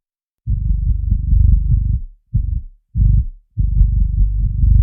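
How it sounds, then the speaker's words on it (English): A low kick drum and bass sit under heavy compression, heard as deep, dull thumping bursts that swell and cut off in uneven chunks, close and loud, with no talking. "you can really hear the gain reduction happening when that kick hits."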